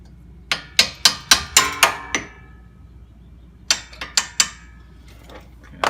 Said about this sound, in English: let these two bolts hold it in place while I remove the nuts from the top of the strut